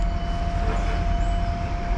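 Steady low rumble and hum inside a passenger train on the line toward Norwich, continuous and close with a faint tonal whine, no voices.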